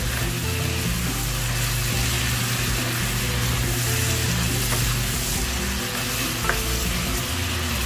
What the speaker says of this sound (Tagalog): Halo-haloin lang para yung ingredients natin ay manuot sa ating chicken.